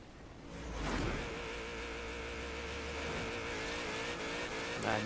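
A car drifting in Forza Horizon 3 holds a steady engine drone with a faint squeal of tires, with whooshing bursts at the start and finish.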